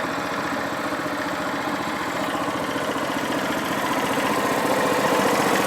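A small engine idles steadily while the machine sits in gear under very little load, a continuous even chugging throb that grows slightly louder toward the end, with no voices.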